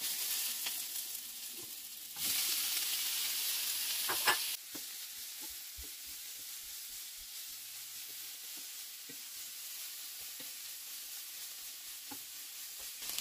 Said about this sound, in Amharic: ሽንኩርቱን እንደዚህ ከጠበስነው በኋላ በቤል ፔፐሩን የከተፍነው እንጨምርና አብረን እናበስለዋለን